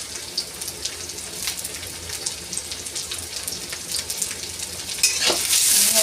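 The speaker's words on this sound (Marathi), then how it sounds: "आणि याला छान असं तेलावर परतून घ्यायचं आपल्याला" Onion and green chillies sautéing in oil, a continuous close sizzle with spoon taps and scrapes against the pan, the frying growing louder and hissier in the last second.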